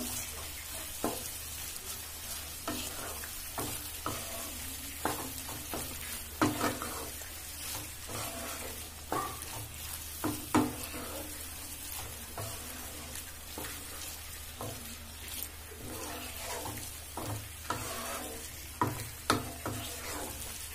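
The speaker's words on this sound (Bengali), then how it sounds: "এবার আমি এটা ভালো করে নেড়ে নেব।" A spatula repeatedly stirs and scrapes egg roll filling seasoned with soy sauce in a frying pan, producing irregular knocks and scrapes over a low, steady sizzle, close and fairly quiet.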